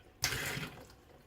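Water poured into a container to measure out half a liter for making kvass, a short splashing pour of about a second that starts abruptly and fades, close and quiet, with no talk.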